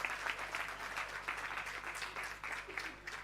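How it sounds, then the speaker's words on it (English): Applause from an audience at a conference launching the International Decade of Indigenous Languages, a steady wash of many hands clapping at moderate distance throughout. "A round of applause."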